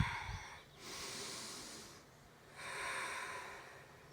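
Deep, slow breaths drawn through the nose during a seated yoga twist, two long airy exhales heard up close, each lasting over a second and separated by a quiet pause.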